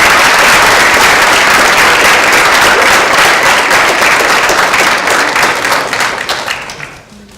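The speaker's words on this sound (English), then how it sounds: "please, before we take questions, give a round of applause again for the members of Beach Forensics." Audience applauding members of a student debate team, a dense, sustained wash of clapping from a full room that holds steady for several seconds, then thins and fades out near the end.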